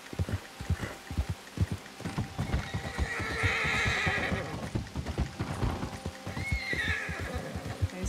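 A horse in Red Dead Redemption 2 Online trots with loud, close clip-clopping hooves in a steady rhythm, and two drawn-out neighs or whinnies rise over the hoofbeats midway and near the end.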